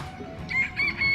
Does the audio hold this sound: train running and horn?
no